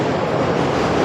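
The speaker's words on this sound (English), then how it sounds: "The train is going around," A train rolls past at a distance as a steady, unbroken rumble and wash of noise with no clear beat, filling the whole moment without any talk over it.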